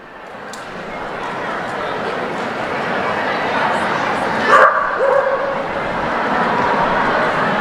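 A small dog yips and barks a few times at an outdoor papal general audience, faint and brief beneath a man's ongoing speech and crowd ambience.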